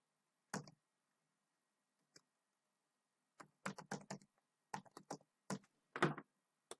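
Computer keyboard keys tapped while an email address is entered, a lone click then a quick run of clustered keystrokes, close and fairly quiet.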